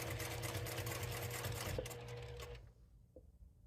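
A sewing machine stitches fabric for a playing-card case, running at a steady, quiet, even pace for over two seconds before stopping, followed by a couple of faint clicks.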